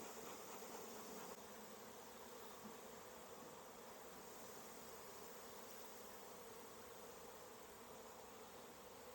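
A swarm of honeybees pours out in a steady, dense buzzing hum, continuous and fairly close, with no talking over it.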